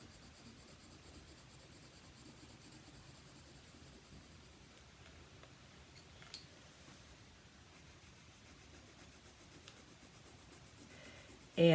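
Colored pencils scratch and blend softly on paper in a continuous, faint, close rasp with slight rhythmic strokes, ending in a brief louder rustle.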